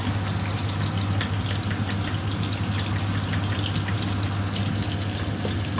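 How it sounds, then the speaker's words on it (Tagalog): Breaded pangasius fish fillet frying in a pan, a constant crackling sizzle with fine popping over a steady low hum, close and unbroken throughout. "Tapos lutuin ko dyan pagkatapos yung isda."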